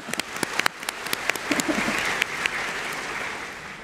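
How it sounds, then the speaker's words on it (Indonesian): Church congregation at an anniversary thanksgiving service clapping for the attendees from Tangerang: a short, fairly quiet patter of applause with a few sharper individual claps standing out. "Tepuk tangan Tangerang."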